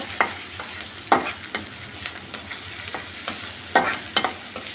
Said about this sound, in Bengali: লবণটা দিয়ে ভালো করে পেঁয়াজের সাথে মিশিয়ে নিয়ে ভেজে নিব